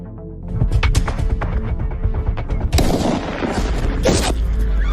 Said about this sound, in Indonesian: tembakan dari Ryder, hanya mengenai tangan sang presiden